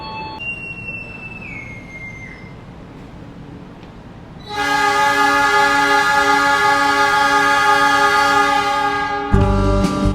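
Taksaka passenger train departing Gambir station, its horn sounding a loud, sustained multi-tone blast that holds steady for several seconds after quieter station ambience, then cuts off into a deep rumbling burst.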